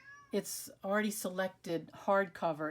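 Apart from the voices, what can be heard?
cat meowing in the background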